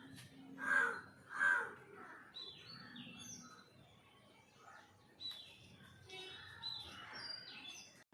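Two distinct crow caws ring out early, followed by fainter bird chirps and calls in the background.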